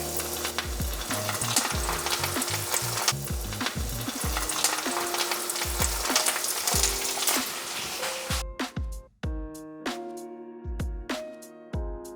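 Grass carp pieces crackle and sizzle loudly as they are lowered into hot frying oil, a dense continuous fry with sharp pops, followed by separate clinks and knocks of utensils against the pan.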